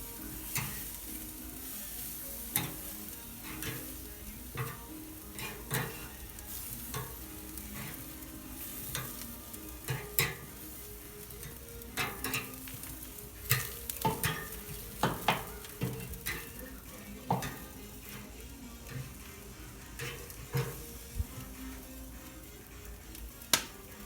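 Chicken pieces frying skin side down in a pan: a faint, continuous sizzle broken by scattered sharp pops and crackles, some close and crisp, spread irregularly throughout.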